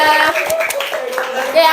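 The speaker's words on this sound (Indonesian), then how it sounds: "Tepuk tangan untuk kelompok 2." A school class claps for a student group during a micro-teaching lesson, a brief loud patter of hands close by with children's voices mixed in.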